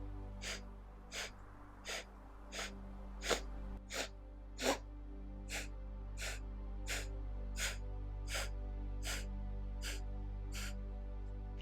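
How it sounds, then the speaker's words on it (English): Rapid small sniffs of a yoga breathing exercise, sharp bursts of nasal breath repeating at a quick, even pace, close and fairly quiet, with a low steady hum underneath and no talking. "8 small sniffs in, 8 small sniffs out."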